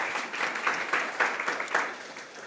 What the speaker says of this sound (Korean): 박수 한 번만 좀 부탁드리도록 하겠습니다